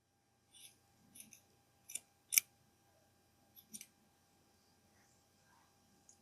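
Scissors snip yarn tassel ends on a crochet wind spinner, several short crisp cuts spaced irregularly and close up, the loudest near the middle, in an otherwise quiet room.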